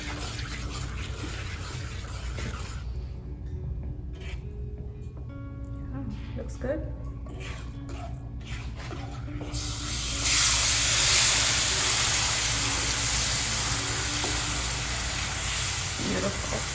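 Water is added to a hot pan while Indian sweets cook. A sudden loud sizzling hiss surges about halfway through and keeps steaming steadily, after a quieter stretch with brief talk.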